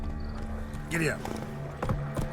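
A horse in The Witcher 3 video game whinnies and its hooves clatter in a few quick beats over a brief span, with a voice speaking beneath.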